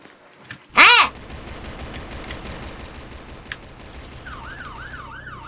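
A police car siren in the Roblox game Brookhaven, with a sharp rising electronic burst near the start, then a wailing siren that sweeps up and down repeatedly, fainter, over a steady background hum.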